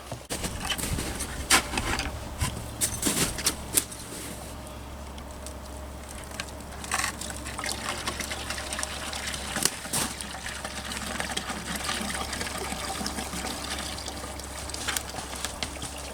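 Maple sap drips from a tree tap outdoors on a homestead, scattered soft patters and small splashes falling irregularly over a faint, steady background rush.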